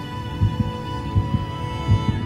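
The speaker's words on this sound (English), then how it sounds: "to show your heart beating" A heart beating steadily, each pulse a soft low double thump, about three beats over a constant electronic hum.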